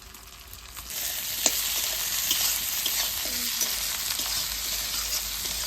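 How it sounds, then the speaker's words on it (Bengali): Tomatoes sizzle and fry in a pan over earlier-fried onions and black cumin, with a spoon scraping and stirring through them in scattered clinks; a steady close hiss runs throughout with no talk. "এবার টমেটোগুলো দিয়ে দেবো।"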